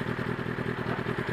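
A motorcycle engine running close by, a steady rough mid-pitched drone with a fast pulsing beat and slight rise in throttle, loud and alone without voices.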